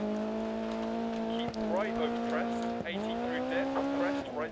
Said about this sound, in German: Das Auto lässt sich jetzt ganz anders fahren